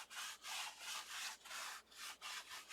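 An embossing anti-static pad is rubbed across a surface in repeated brisk strokes, about seven close, soft scuffing swipes separated by short pauses, quiet and with no voices.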